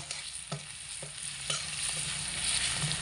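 Spices being stir-fried together in a pan over medium heat for a vegetarian pumpkin and potato dish: a continuous close sizzle with rhythmic spatula scrapes and taps roughly every half second, no voices.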